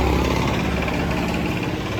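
A broken scooter engine runs close by during repair, a steady, rough mechanical buzz with a dense vibrating rattle across the whole short stretch.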